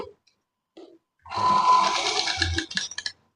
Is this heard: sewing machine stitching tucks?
yes